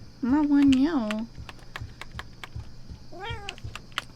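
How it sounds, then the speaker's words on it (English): Cat meowing close by with a long drawn-out wavering meow and a second shorter one a couple of seconds later, over soft keyboard typing clicks. "Kitty wants to play."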